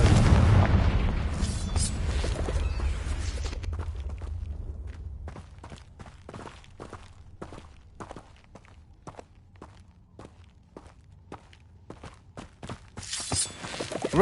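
A Confringo fire spell blast in Hogwarts Legacy booms and rumbles at the start, fading over a few seconds, followed by a long run of steady footsteps.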